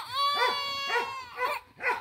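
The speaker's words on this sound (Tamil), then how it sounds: "அங்க நாய் வேற குலைச்சிட்டே இருக்கு." A dog in a village setting gives a quick series of about four loud, close, whining yelps and barks at a steady rhythm over a couple of seconds, with no talk.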